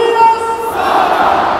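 Football stadium crowd at an IFK Göteborg versus Östersunds FK match on a freezing day, a broad roar of cheering voices rising and holding, loud and continuous.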